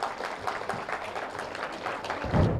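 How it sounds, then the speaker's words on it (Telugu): An audience clapping loudly in a hall, a brief burst of dense, steady applause from many hands at moderate distance. "గట్టిగా చప్పట్లు కొడదాం"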